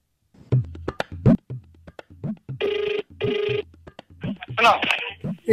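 Telephone call tones come through a handset, with two short, evenly spaced tone bursts like a busy signal, set between bits of phone conversation.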